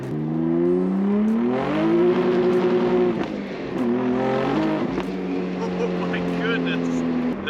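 A 650 wheel-horsepower Nissan 300ZX street car accelerating hard through gears, its engine note climbing loud and close from inside, briefly dropping at shifts before rising again, with voices faintly underneath.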